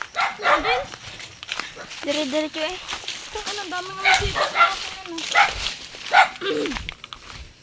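A dog barks and yips several times in short bursts while people talk over it nearby.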